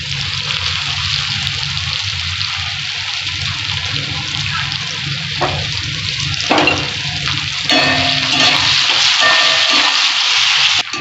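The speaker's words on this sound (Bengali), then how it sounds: "আমি পেঁয়াজটা দিয়ে দিচ্ছি।" Thinly sliced onions sizzle steadily in hot oil in a pan for a Bengali oil-fried fish dish, a loud continuous frying hiss that briefly intensifies as they are stirred.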